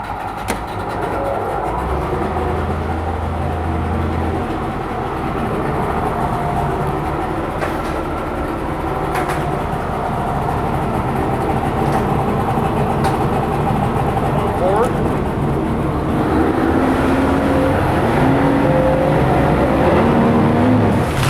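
A 1995 Yamaha 70hp two-stroke outboard boat motor with a 20-inch tiller runs on winter fuel mix, giving a loud, steady droning rumble throughout while a person talks over it.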